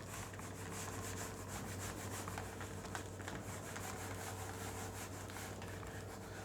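A board duster rubs across a classroom blackboard in quick repeated strokes, a faint scratchy erasing sound under a steady room hum.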